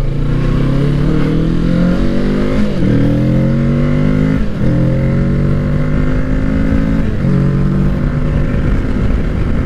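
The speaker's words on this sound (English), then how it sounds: "Giving a few throttle blips there." A 2020 Kawasaki Ninja 650 KRT Edition motorcycle engine revs loud and close in several throttle blips, its pitch rising and falling repeatedly over a steady running drone.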